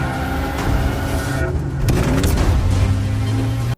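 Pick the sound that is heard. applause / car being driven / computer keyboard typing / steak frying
car being driven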